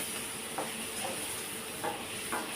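Brinjal pieces and curry leaves sizzling in a hot pan while being stirred, a steady frying hiss broken by a few soft scraping strokes of the spoon, close and fairly quiet.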